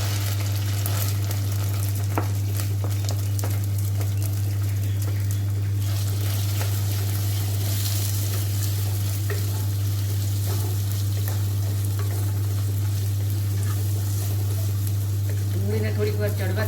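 Onions frying in a pan for homemade pulao give off a continuous, even sizzling hiss over a steady low electrical hum, with a few faint clinks.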